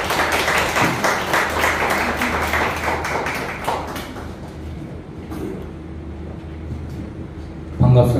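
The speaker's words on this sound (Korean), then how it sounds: "박수로 응원해 주시기 바랍니다." Audience applause at a gallery art-exhibition opening ceremony in Insadong, Seoul: a dense, steady wash of clapping for about four seconds that gradually thins and fades, followed by a quieter room with a faint hum.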